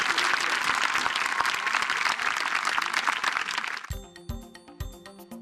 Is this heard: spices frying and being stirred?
no